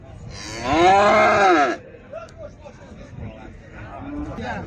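A single loud, drawn-out calf moo lasting over a second, followed by quieter background murmur and faint voices.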